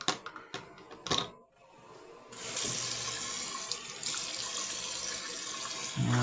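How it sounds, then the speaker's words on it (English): Hot water pours from a tap into a drain while a plumber clears a hair clog: a few sharp clicks and knocks, then a steady, close rushing gush of running water that continues to the end. "Now we stop her up again with some hot water."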